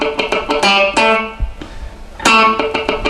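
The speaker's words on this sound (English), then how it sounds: "the specific technique that I'm going to teach you today on the guitar is how to play dead notes or muted notes" Funk electric guitar riff, with crisp chords broken up by quick percussive muted dead-note clicks in a tight syncopated rhythm, played close and loud with no talking.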